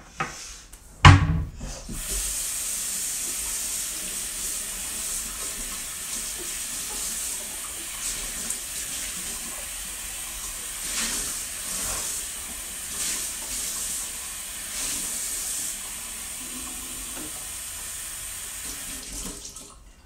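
A kitchen tap runs to fill a small glass of water, a steady close hiss of flowing water lasting many seconds after an opening knock, with faint clinks and shifts.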